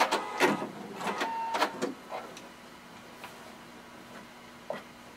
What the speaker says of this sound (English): Gone as far as I can go, so I'm going to backstitch.